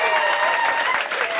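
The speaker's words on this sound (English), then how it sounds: "Round of applause if you're a child of divorce" Audience applause at a stand-up comedy special, a dense, steady wash of clapping that fills the whole moment with a few whoops mixed in and no break in the noise.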